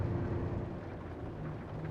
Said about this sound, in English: like it's raining really, really hard, but I was able to hear it before I was able to see it on the windshield